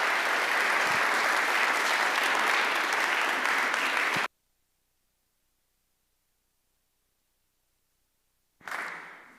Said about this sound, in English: Please give a warm round of applause for Ingrid Robeyns.